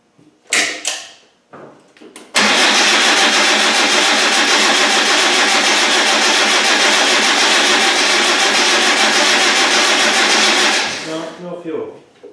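A Land Rover 300Tdi diesel engine, freshly rebuilt and suffering fuel problems, cranks in a few short bursts, then catches and runs loud and steady for about eight seconds before cutting out, close to the microphone.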